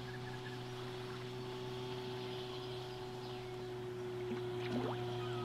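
Boat motor running on the water during a fly-fishing outing, a steady low droning hum with tonal engine harmonics, constant and fairly close, with faint bird calls near the end.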